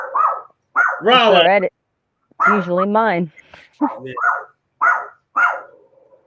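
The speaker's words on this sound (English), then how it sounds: "that's my dog" A pet dog barks and yips in short bursts close by, mixed in with several people chatting casually over and between the barks.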